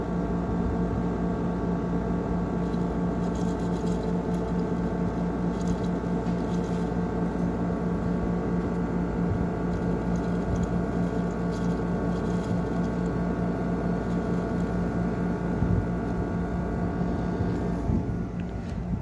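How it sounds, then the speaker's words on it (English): A DeLonghi Pinguino portable air conditioner runs its slinger motor with a constant broadband whir and low steady hum, a faint watery patter over it, and the noise changes slightly near the end. "that is the sound of the Slinger motor"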